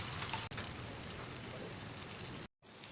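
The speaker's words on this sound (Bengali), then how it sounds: "এখন আমি ডিমটা দিয়ে দেবো। ডিম দিয়ে ভালো করে ভেজে নেব ডিমটাকে।" An egg fries in hot oil in a frying pan, a steady dense crackling sizzle like rain on a surface, one brief dropout, then a short silence before the sizzle returns.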